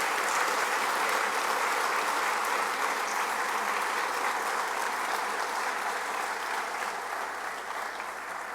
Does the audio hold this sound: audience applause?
yes